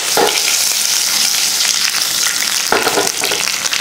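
Mustard seeds, urad dal and cumin hitting hot oil for a drumstick masal, a loud close sizzle that crackles steadily, with two sharp bursts as more seeds go into the pan.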